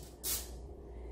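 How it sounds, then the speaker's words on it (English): A short, close hiss of cooking spray shot into a measuring cup, one quick burst that fades against faint background noise. "spray a little cooking spray into your measuring cup"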